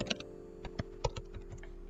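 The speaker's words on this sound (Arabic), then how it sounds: "نكتب هنا في السيرش grow with جوجل" Someone types a search on a computer keyboard: a short, quiet burst of irregular key clicks, close up and alone.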